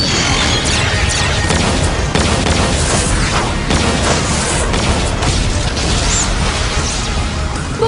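Missile launch and explosion in an Ultraman Nexus battle: dense, continuous booming and crashing blasts fill the whole stretch, loud and close, with rumbling impacts layered over one another.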